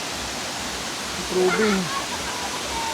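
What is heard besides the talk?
flowing water of a resort waterfall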